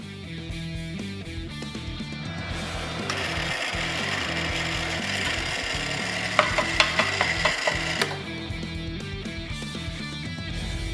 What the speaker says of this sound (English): I'm drilling 2 smaller 1/8 inch holes through the top and the 1-inch bend underneath